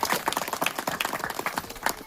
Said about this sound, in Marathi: त्यांच्यासाठी अगोदर एकदा आपण टाळ्यांचा कडकडाट करूया